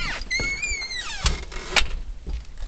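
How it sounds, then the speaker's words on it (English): A house door is opened and quickly shut on a summer night, giving a couple of short thumps and a brief creak up close, with a squeaky tonal sound early on and no talking. "I gotta open the door and close the door real fast"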